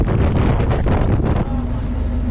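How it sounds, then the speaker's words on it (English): Strong westerly wind buffets a boat at anchor during a wild storm on the Great Barrier Reef, a loud, continuous roaring rush that blasts the microphone and steadies into a lower howl partway through, with no talk. "That wind's coming straight from the west."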